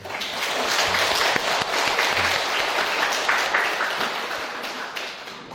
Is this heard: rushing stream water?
no